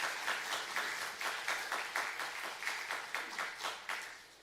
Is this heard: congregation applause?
yes